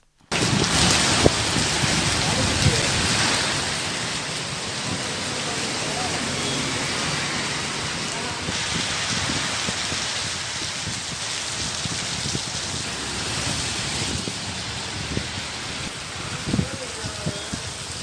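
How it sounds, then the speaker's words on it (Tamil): Heavy monsoon-style rain pours steadily in Kamudhi, Ramanathapuram district, Tamil Nadu, with thunder rumbling through a storm with lightning; a dense, continuous hiss of rainfall holds for the whole stretch, close and fairly loud. "சுமார் 1 மணி நேரம் இடி, மின்னலுடன் பெய்த மழை காரணமாக வெப்பம் தணிந்து குளிர்ச்சி நிலவியது."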